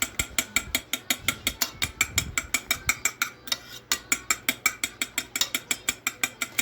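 Peanut cake batter beaten by hand in a bowl, giving a steady, fast run of sharp clacking strokes, about four or five per second, close and even throughout with no talking.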